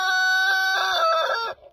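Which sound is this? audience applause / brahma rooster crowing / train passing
brahma rooster crowing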